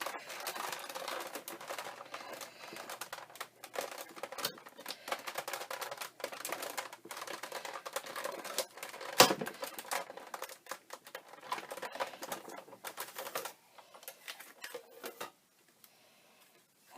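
Clear plates with a Stampin' Up! floral Thinlits die are rolled through a hand-cranked die-cutting machine, making a close, continuous ratcheting clatter of rapid clicks that slows and stops near the end, with no talking.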